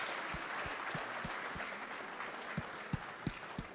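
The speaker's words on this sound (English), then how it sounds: "please, a warm round of applause to all of them once more" Audience applause for a panel at a memorial gathering, a steady wash of many hands clapping at moderate distance with a few sharper, nearer claps standing out toward the end.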